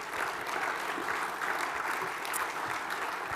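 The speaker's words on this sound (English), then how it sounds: "Give her a hand" A conference audience applauds a contestant at a fintech session. Many hands clap together in a dense, steady wash of sound that holds for several seconds without letting up.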